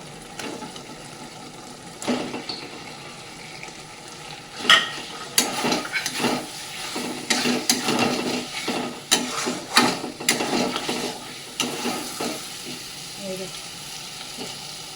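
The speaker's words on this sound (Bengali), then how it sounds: "এবার পনিরটা দিয়ে দেবো যে একটু বাটার দিয়ে ভেজে রাখা পনিরগুলো দিয়ে দেবো" Butter-fried paneer added to a pan of mostly cooked potatoes in a home kitchen, giving a steady sizzle broken by repeated scraping stir strokes and clinks that grow busier midway, with no talking.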